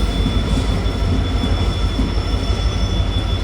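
A train rolls into Londa Junction with a steady, loud rumble of wheels on rails and a thin, sustained squeal, close by and continuous without voices.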